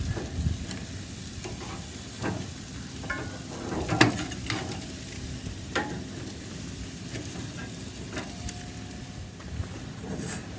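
Ribs and chicken sizzling and frying on a Masterbuilt BBQ as they are flipped, a steady close crackle with a few sharper scraping clicks and bumps from the turning.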